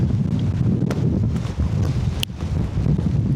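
Gale force wind at a wild camp in the Lake District, loud continuous roaring buffeting against the microphone with gusty rumble and no talking.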